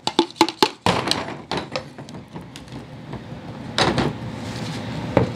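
Wooden block knocking a part off a homemade dual CCV catch can for a 7.3 Power Stroke diesel truck: a few sharp close raps at the start, then quieter handling clatter and one more knock near the end.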